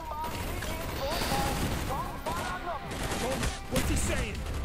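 Rapid bursts of gunfire and explosions from the video game Call of Duty: Black Ops, dense and loud throughout, with someone talking over the shooting.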